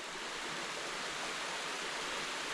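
A woodland stream pours into a pool on the way to an abandoned village in the Goriška Brda hills, a steady broadband rush of water, close and continuous, with no voices.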